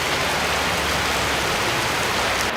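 Steady rain falls in Medellín, Colombia, as a dense, even hiss of drops that fills the short clip without pause, with no voices heard.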